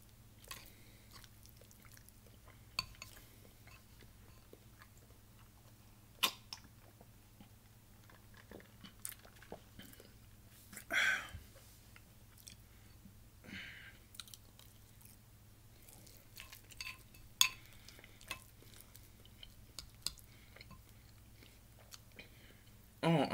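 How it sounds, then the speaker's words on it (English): Someone eats oatmeal for breakfast at close range, with quiet moist chewing and scattered soft crunchy bites and smacks across a long stretch over a low background hum. "Sorry, I can't speak because I'm chewing."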